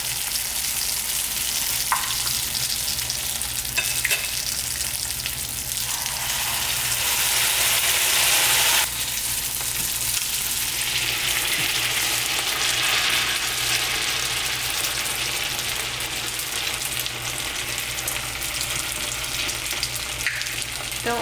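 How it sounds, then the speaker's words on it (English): Spring rolls frying in hot peanut oil, a steady loud sizzle and crackle of bubbling oil that continues unbroken for about twenty seconds with no voices. "we'll add our spring rolls and start frying. Okay, now our peanut oil is ready to fry."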